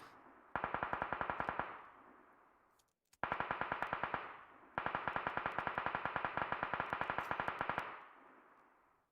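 Automatic weapon fire in PUBG Mobile comes in three bursts of rapid evenly spaced shots, each trailing off in a ringing echo, with the longest burst last.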